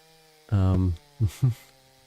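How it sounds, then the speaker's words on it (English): A chainsaw in a scary itch.io video game snarls in one sustained low buzzing rev followed by two short revving bursts, loud and near against a faint background hum. "Why do I hear a chainsaw?"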